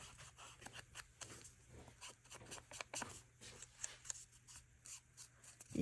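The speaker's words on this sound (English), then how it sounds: "you hear some rustling" Soft, irregular rustling and scratchy brushing sounds, close by and quiet, with no talking.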